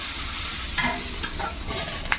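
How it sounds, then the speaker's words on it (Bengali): Eggplant sizzles steadily in hot oil in a pan, a constant bright hiss with a few soft stirring scrapes and no voices. "বেগুনটা একটু ভেজে নিলাম"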